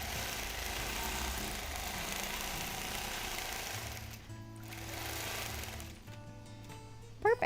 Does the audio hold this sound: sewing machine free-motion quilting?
yes